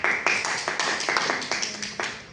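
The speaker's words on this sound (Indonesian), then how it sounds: "Oke, tepuk tangan dulu." A group claps during a school career-counselling class session, a short burst of rhythmic applause with steady, fairly even strikes, close by, with no talking.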